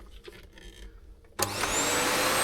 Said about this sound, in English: Hoover.